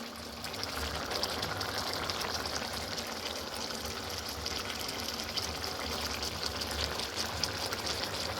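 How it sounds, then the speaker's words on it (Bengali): Cashew and pointed gourd curry, potol dolma, bubbling and boiling in a pot, a faint, steady simmering burble continuing throughout without speech. "এটা দেখতে পাচ্ছ টকবক করে ফুটতে শুরু করেছে রান্না"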